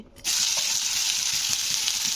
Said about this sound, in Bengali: তো পেঁয়াজটাকে একটু ভাজা ভাজা করে নিতে হবে